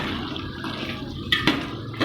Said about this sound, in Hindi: ये तो गाइस यहाँ पे पानी डाल दिया मैंने इसमें।